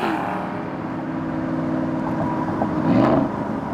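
An exotic sports car's engine accelerating, a close, loud, rising drone with strong harmonic tones that swell in pitch and volume near the end.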